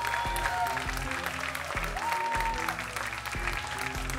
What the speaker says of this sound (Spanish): Un aplauso de verdad para Maritza.